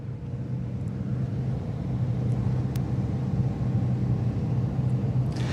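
A steady low rumble of supercar engines ticking over together on a grid at a rare supercar meet, a continuous idling drone with faint occasional clicks on top.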